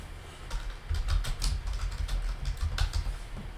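Bursts of quick keystrokes tap on a keyboard while a note is typed, close and fairly soft, in short uneven clusters with brief pauses.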